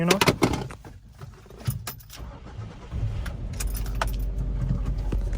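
Keys jangle briefly, then a vehicle engine turns over and settles into a steady, deep idling rumble close by.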